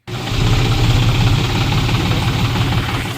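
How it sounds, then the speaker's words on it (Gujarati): A tractor engine labours steadily while crossing a river swollen by flash flooding after heavy rain, its front tyres sunk in the water; the loud, continuous rumble and throb carry on without pause and with no voices. "નદીમાંથી ટ્રેક્ટર કાઢવાનું છે ભાઈ"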